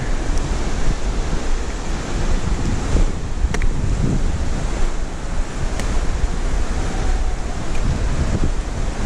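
Rapids at McConnells Mill State Park send up a loud, continuous rush of whitewater as kayakers run them, a dense roar broken only by faint clicks, with no talking.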